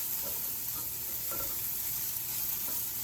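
Roughly three cloves of garlic and part of an onion sizzle steadily in a pan, a dense close frying hiss with faint stirring scrapes throughout.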